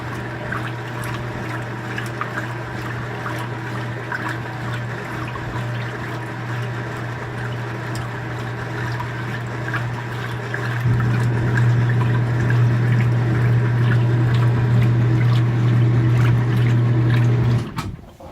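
2017 Speed Queen washing machine in a rinse cycle, continuous rushing water over a steady low motor hum that swells louder partway through, then cuts off near the end.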